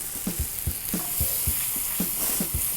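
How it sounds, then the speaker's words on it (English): Cannellini beans going into a pan of sizzling pancetta, with steady frying crackle and a run of soft, regular stirring scrapes and knocks at close range. "now we're adding the bean"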